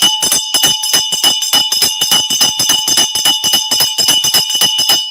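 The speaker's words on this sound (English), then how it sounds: "ring the bell for you" A bell rings in a rapid, steady series of bright metallic strikes, loud and close, continuing for several seconds without pause.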